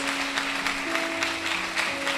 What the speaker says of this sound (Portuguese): Agora você aplaude a Deus de verdade.